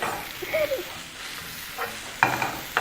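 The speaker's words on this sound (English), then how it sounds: "we're just sauteing this briefly" Vegetables with chili get a brief sauté in a hot pan, a soft sizzle broken by a few stirring scrapes and clinks near the end.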